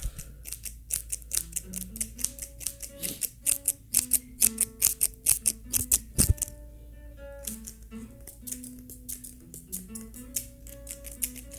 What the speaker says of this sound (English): These scissors sound a little bit louder than usual.